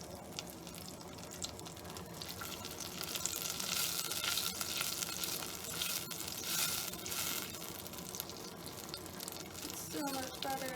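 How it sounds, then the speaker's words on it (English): Macaroni noodles are stirred in a pot with melting butter, giving a steady sizzling, bubbling cook-pot hiss with occasional scraping and clinking of the spoon, close and continuous throughout. "Stir the noodles again in hopes that I don't have half the pot stuck to the pot."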